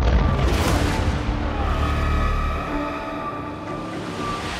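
A powerful explosion during the Russia-Ukraine war, a heavy, loud, rumbling boom that fills the opening seconds and then slowly fades into a lingering low roar.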